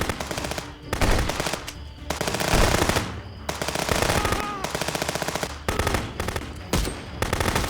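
Rapid bursts of automatic gunfire in the video game Contraband Police, a shootout with police at a sawmill, loud and continuous with brief pauses between volleys, plus an occasional heavier shot.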